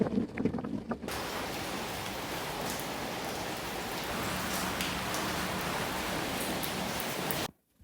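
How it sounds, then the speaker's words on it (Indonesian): Light drizzle falls in Palu, a steady soft hiss of rain on surfaces lasting several seconds outdoors, with faint wind noise against the microphone and an abrupt stop at the end. "walaupun ini kondisinya betul hujan, tapi dia yang gerimis-gerimis kayak gitu"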